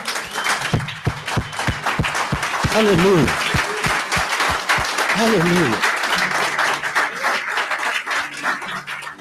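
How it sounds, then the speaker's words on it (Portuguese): Church congregation clapping loudly for Jesus during an evening communion service in Brazil, rapid clapping building into sustained applause, with voices crying out in praise over it. "Dá um aplauso bem forte a Jesus."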